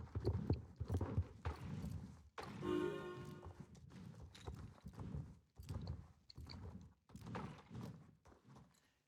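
Horses in the online game Star Stable Online clopping their hooves in a steady rhythm, with a soft snort or whinny partway through, moderately loud and close, no voices.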